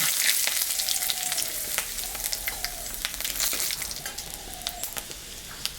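Cumin seeds, dry red chilli and bay leaf sizzle in hot oil left over from frying fish, a steady loud crackle with sharp spits and pops running throughout, no voices.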